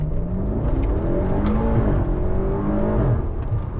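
BMW F90 M5 Competition with xDrive accelerating hard out of a corner onto a road, its engine note climbing in steady rising harmonics over continuous loud roar, heard close without talk.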